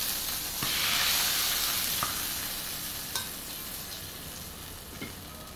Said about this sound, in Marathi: आता इथेच साईडला एका चपाती ठेवूया गरम करायला